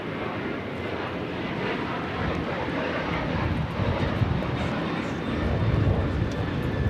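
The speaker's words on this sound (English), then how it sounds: "This is Delta Airlines 449 taking off to Nashville on the 737-800." A Delta Airlines Boeing 737-800 departs LAX with a continuous jet engine roar and rumble that swells gradually louder toward the end, with faint voices in the background.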